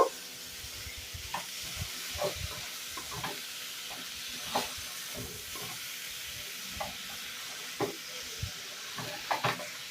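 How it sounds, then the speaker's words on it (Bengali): Onions and tomatoes stirred and fried in oil for a lemon-leaf shrimp dish, a steady soft sizzle broken by repeated scraping stirs of a spatula, close and moderately quiet, with no talking. "পেঁয়াজ আর টমেটোটা দিয়ে ভালো করে একটু নেড়ে কষিয়ে নেব।"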